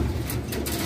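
Fancy pigeons at a loft, giving a brief low coo amid a dense, noisy background murmur of birds, close and steady for under a second.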